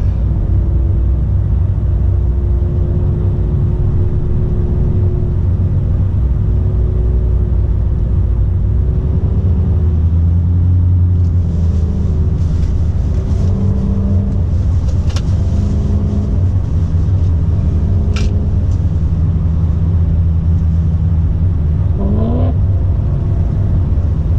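Camaro SS car warming up its tires, a loud steady engine rumble with tire roar running throughout, revving and rising in intensity toward the end, close and alone without talk.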